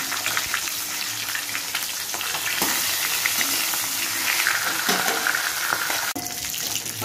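A catla fish head frying in a pan of oil gives a dense, continuous sizzle and crackle, close and loud, with occasional scraping stirs and a brief dip near the end.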